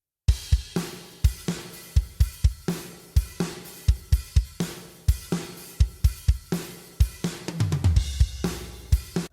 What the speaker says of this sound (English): I decided to put some drums behind it to get a beat going